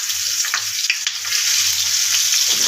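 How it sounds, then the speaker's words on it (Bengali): Spice-coated eggplant slices frying in hot oil, a loud close hiss and crackle with steady bubbling, rising slightly toward the end, with no voices. "তেলের মধ্যে দিয়ে দিলাম, এবার আঁচটা মারছি।"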